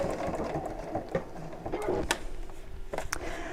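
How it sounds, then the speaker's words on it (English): A sewing machine stitches a box shape around plastic on the fabric lining of a large tote bag, running in short bursts with brief stops and clicks between them, close and alone. "we're going to sew around the plastic in a box shape"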